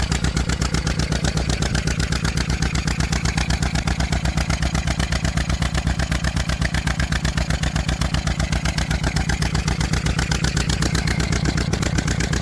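A restored John Deere MV tractor engine runs steadily on its own with a fast, even firing rhythm, loud and close, with a sticking choke and no voices over it.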